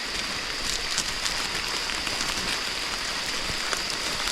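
Heavy downpour outdoors in rural Konkan during monsoon crab catching, a steady dense hiss of rain falling on surfaces and water, continuous and loud with no voices.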